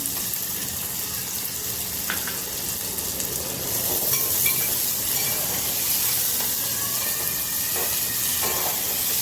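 Chopped onion and two green chillies sizzling and frying in a pan, a steady bright crackling hiss with occasional stirring scrapes, close and continuous with no talk.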